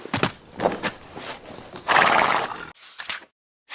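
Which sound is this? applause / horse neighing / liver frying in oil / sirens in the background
horse neighing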